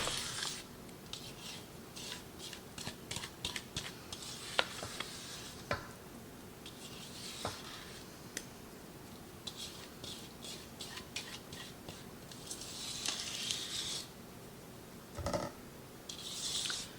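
Zucchini bread batter being stirred with a spatula in a bowl, giving soft, irregular scraping and wet sloshing strokes that come and go at close range, with brief clicks against the bowl.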